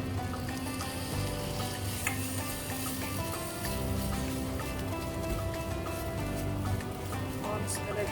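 Red-coloured halwa cooks in an oily pan with a steady, close sizzle and occasional scraping and stirring throughout, with no clear talk.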